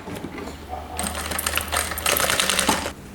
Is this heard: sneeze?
no